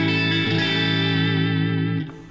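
A Worship Strat electric guitar on its single-coil pickup rings out as a sustained chord with effects, loud and alone, cutting off near the end.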